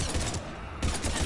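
Dense burst of automatic gunfire from the Mass Effect 3 video game, loud and continuous across a heavy firefight, briefly easing mid-way before the rapid shots surge again.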